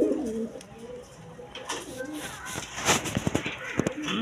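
Coloured Giribaj pigeons cooing up close, soft low throaty coos with rapid fluttery bursts, while someone talks over them.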